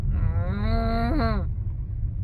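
A cat lets out one long, loud, drawn-out meow lasting over a second, deep and moaning enough to resemble a cow's moo, heard close up over a low background rumble.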